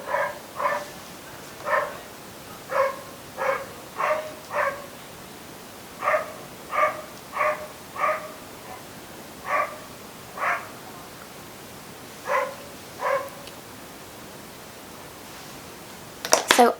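Neighbouring dogs bark from a distance in short, spaced bursts, about a dozen single and double barks over a quiet background, with a louder rustle at the very end.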